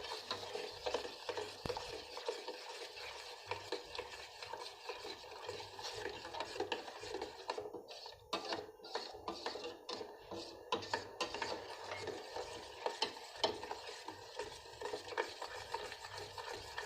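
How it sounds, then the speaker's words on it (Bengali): A jelly mixture tinted with green fruit colouring is stirred steadily in a pot, producing a continuous scraping, swishing texture with brief rhythmic rubbing strokes midway, close and moderately loud with no talk. "মিশিয়ে দিয়ে আমি নাড়িয়ে নিচ্ছি"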